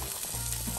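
Blowfish fillets fry in a pan, giving a steady, close sizzle that fills the whole short stretch without any voices.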